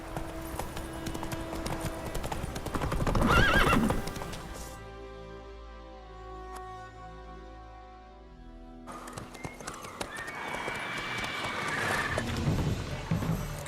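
Roach the horse in The Witcher 3 gallops with rapid rhythmic hoofbeats that fade into a quieter stretch and then pick up again, with game music underneath and a short whinny-like burst among the steps.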